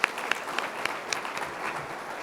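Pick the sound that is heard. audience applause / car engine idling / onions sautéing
audience applause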